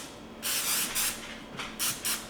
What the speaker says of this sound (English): So I'm just gonna spray my little pan with Pam.